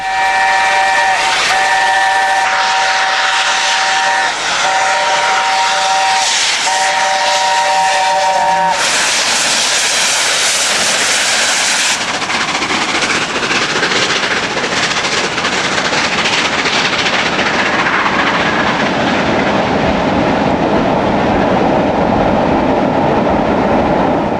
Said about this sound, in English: This was the Flying Scotsman on its way up north.